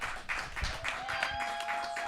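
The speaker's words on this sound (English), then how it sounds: "One more round of applause" Audience applause at an open mic show, rising for a band after its set; steady clapping throughout with a few tonal hums and faint voices mixed in.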